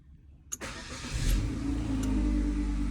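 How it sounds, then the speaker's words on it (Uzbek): A Chevrolet Cobalt car started remotely via its key fob: a short click, then the engine cranks and catches, settling into a loud, steady idle close by with no talking. "3 marta qulfni bossa mashina zavod bo'ladi."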